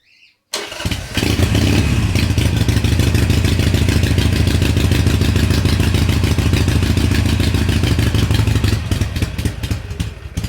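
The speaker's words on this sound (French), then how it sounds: "nous allons mettre la moto en route hein, pour écouter et voir si ce fameux ralenti se baisse" A 2006 Harley-Davidson Sportster 883 R engine starts after a brief quiet moment and settles into a loud, steady, rapid idle throb close by while warming up.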